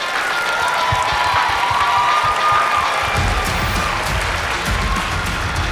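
Audience applause for contestants at the 2023 Miss Hooters International Pageant, loud, dense clapping throughout with some cheering, swelling stronger in the second half.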